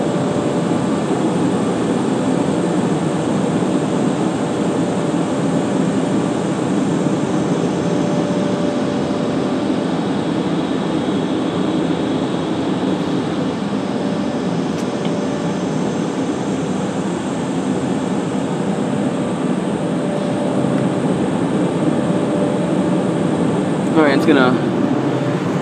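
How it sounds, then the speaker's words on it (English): Karcher Opti Wash 8000 car wash air dryers blowing in a steady, loud, broadband roar that fills the whole stretch with little change, and a voice talks briefly over it. "these dryers are just okay."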